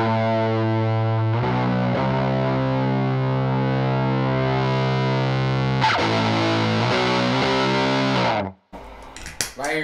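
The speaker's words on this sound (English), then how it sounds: "the more you turn that filter clockwise, then it starts to sound more of a distortion" An electric guitar played through a fuzz pedal offered as a Big Muff alternative rings out thick, saturated sustained chords, restruck twice, then cuts off abruptly before a few short choppy notes.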